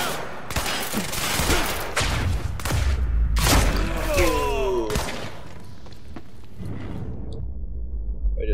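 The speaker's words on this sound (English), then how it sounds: "Last guy shooting at me." Enemy gunfire in the video game Quantum Break comes as repeated loud bursts and thumps, dense and close, with a voice talking between the shots before the noise drops away near the end.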